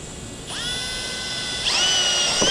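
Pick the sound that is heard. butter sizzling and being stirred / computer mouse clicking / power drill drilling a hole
power drill drilling a hole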